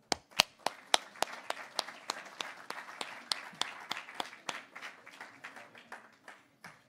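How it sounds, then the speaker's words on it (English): Sparse applause from a small group at the 2019 World TeamTennis Draft: quiet, distinct individual claps in an uneven rhythm, some louder than others, heard alone without voices. "everyone should just give themselves a round of applause"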